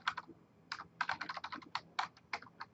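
Quick, close keystrokes on a computer keyboard as a command is typed, an irregular run of crisp clicks in short bursts with brief pauses, heard alone without talk.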